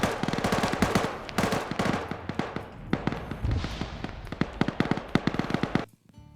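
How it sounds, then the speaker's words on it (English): Gunfire and grenade blasts fill a chaotic battle in a military shooter game: dense, rapid cracks and bursts of automatic fire with heavier thuds mixed in, loud and close, then stopping abruptly. "They're lobbing grenades on him"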